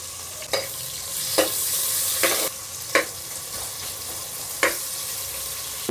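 Onions frying in a pan for mushroom biryani, a steady close sizzle broken about every second by distinct scraping stirs of a utensil, with no talking over it.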